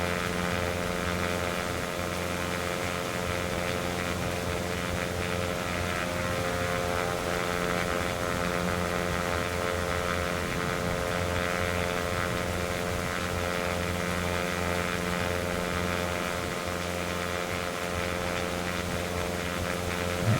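Steady propeller aircraft engine drone from the X-Plane 11 flight simulator, droning continuously at an even level with a dense stack of harmonic hum and no talk, flying toward Lyneham over the English countryside.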